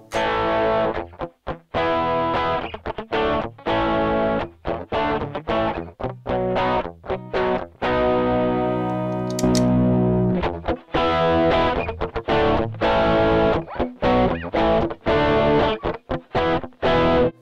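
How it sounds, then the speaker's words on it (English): A distorted electric guitar played through a Rockman Guitar Ace plays rock chords and riffs with a crunchy, saturated classic rock tone, loud and up front with no voices. "It's a usable, I guess, classic rock sound."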